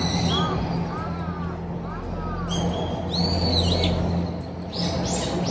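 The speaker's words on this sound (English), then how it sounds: "The crow sounds like it's saying Anya" A crow caws several times nearby in a Tokyo neighborhood, the calls rising above steady street noise, with voices talking underneath.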